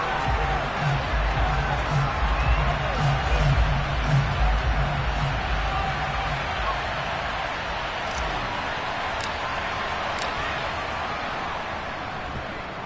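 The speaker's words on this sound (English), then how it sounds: "Shouts from this crowd as they watch the replay." A football stadium crowd roars and shouts while watching a replay, a dense, steady wall of distant cheering that slowly fades, with a few sharp claps or whistles on top.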